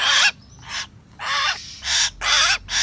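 Young hill mynas from Dak Lak give a string of harsh, crow-like calls, about six loud, close bursts in quick succession with short gaps between them.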